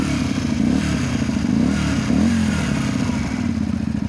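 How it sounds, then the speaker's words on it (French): Honda Varadero 125 twin-cylinder motorcycle with the exhaust baffle removed, idling and revving nearby in a steady low burble with a few quick throttle rises, no voices. "ça nous permet d'avoir un bruit vraiment pas dégueulasse."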